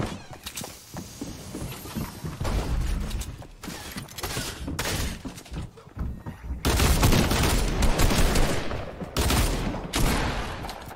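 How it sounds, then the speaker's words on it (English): Rapid shotgun and weapon fire in the Fortnite video game, dense bursts of loud blasts and impacts stacked on busy game noise, continuous and close with several heavier volleys toward the end. "I got a shotgun."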